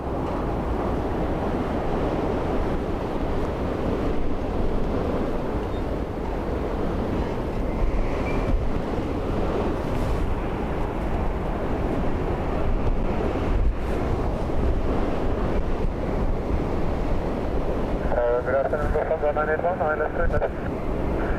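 Strong gusting storm wind at Dublin Airport, a continuous heavy roar buffeting the microphone for the whole stretch, with a faint tonal hum briefly near the end.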